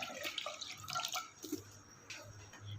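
A glass of water is poured into a cooking pot holding washed raw chicken, set to boil, making a quiet trickle and light splashing with no talk.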